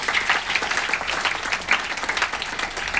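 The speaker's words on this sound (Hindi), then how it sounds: "इसके लिए एक जबरदस्त ताली बजाइए।" An audience breaks into loud, sustained clapping at a motivational talk, a dense burst of many hands with no voices over it.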